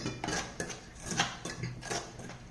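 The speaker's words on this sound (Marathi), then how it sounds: "आता हे सर्व मिश्रण एकजीव करून घेणार आहोत।" A spoon stirs a besan sweet mixture with ghee and milk in a pan, giving a series of scraping and clinking strokes, fairly close and moderately loud, with no talking.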